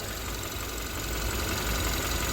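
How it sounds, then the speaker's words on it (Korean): A cold Hyundai Avante MD engine idles steadily with a smooth, continuous hum and faint mechanical ticking, heard up close with no talking. "지금 엔진이 준비 운동도 안 된 워밍업이 안 된 상태임에도 불구하고 엔진 진동"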